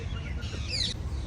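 Bird calls from sparrows and crows at a busy outdoor spot in Delhi, one brief clear call rising over a low background rumble.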